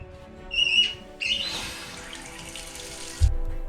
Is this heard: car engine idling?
no